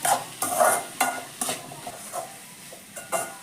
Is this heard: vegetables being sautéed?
yes